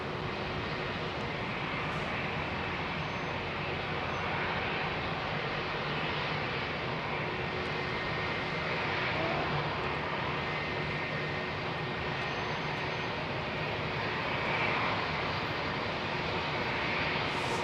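A freighter aircraft rolls on Heathrow Airport's runway 27R, a steady broadband jet roar that holds close and loud for the whole stretch, swelling slightly here and there, with no voices.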